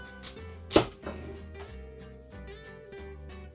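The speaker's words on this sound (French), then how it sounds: "c'est éplucher la courge butternut." A knife peels a butternut squash on a board with a sharp scraping knock followed by quieter, intermittent scraping strokes, close and unaccompanied by talk, with soft background music.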